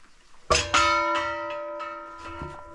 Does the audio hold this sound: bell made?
yes